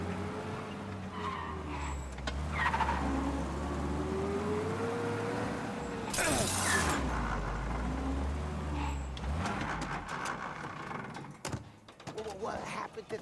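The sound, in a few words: car driving in video game Mafia: Definitive Edition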